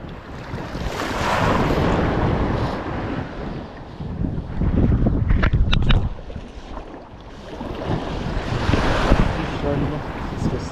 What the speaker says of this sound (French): Les vagues commencent à s'intensifier